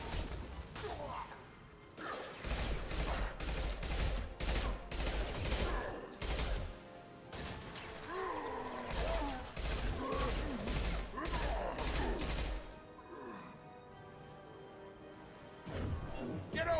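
Gunfire in the video game Mass Effect 2, dense rapid bursts in long loud stretches with brief pauses, some crashing impacts, and voices calling out between volleys.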